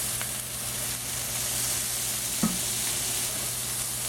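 Beef and green beans stir-frying in sesame oil give a steady, close hiss of sizzling with one brief clack of a utensil partway through, and no talk.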